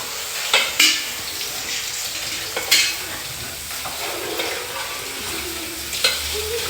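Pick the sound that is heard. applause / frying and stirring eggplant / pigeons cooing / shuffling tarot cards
frying and stirring eggplant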